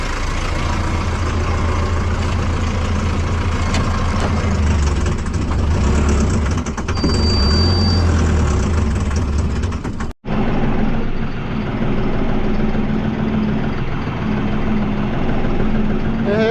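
A tractor engine runs loudly and steadily close by with a continuous low rumble, interrupted by a brief dropout midway before carrying on at a slightly smoother tone.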